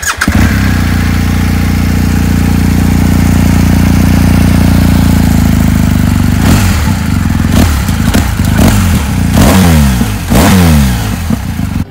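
BMW R1250GS HP motorcycle engine running at a loud, close, steady idle, then revved several times in sharp rising and falling bursts.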